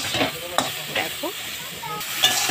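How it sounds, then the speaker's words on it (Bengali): Eggplant pieces stirred in a pan, with a soft sizzle of frying under a few scraping spatula strokes and light clinks, close and moderately loud. "বেগুন দিয়ে বেগুনটা আমি একটু নেড়ে চেড়ে নিচ্ছি"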